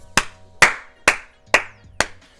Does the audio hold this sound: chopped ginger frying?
no